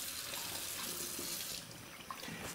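Water runs steadily from a kitchen tap while bagel dough is being prepared, a close, continuous splashing rush that softens slightly near the end, with no talking.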